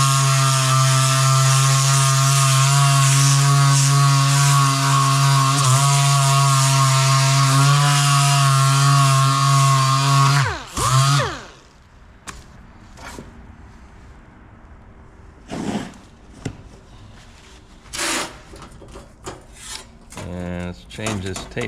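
Epoxy-coated metal being sanded with 80 grit: a loud steady motorized whine for about ten seconds that winds down abruptly, followed by quieter intermittent scraping strokes and knocks, close by with no talk.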